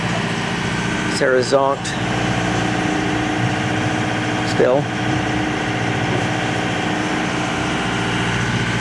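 A sailboat's engine runs steadily while motoring at sea on a rolling passage from Curacao to Colombia, a continuous low drone throughout with a person talking over it.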